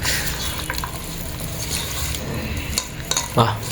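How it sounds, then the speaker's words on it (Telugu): Veg biryani is mixed by hand, giving a continuous soft, wet squelching and stirring with a few louder clumps near the end, close and alone without talk. "ఇక మిక్స్ చేసుకోవాలి, ఇక కలిపేసేయాలి, ఇక ఆల్ మిక్స్."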